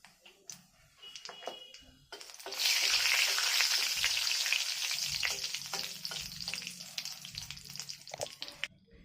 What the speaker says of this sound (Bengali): তুলে নিয়ে ওই তেলেতেই দেবো 2টো লঙ্কা, আর দেবো কালো জিরে।